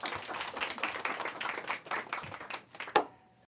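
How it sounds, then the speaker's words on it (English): A small audience claps for a speaker at an academic lecture series, a sparse, uneven round of individual hand claps that tapers off after about three seconds. "Let's give him a first round of applause."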